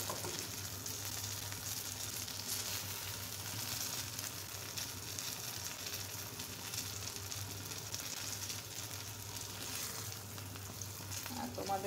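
Thick eggplant slices frying in oil, a dense continuous crackling sizzle close up and fairly even throughout, with a faint low hum underneath.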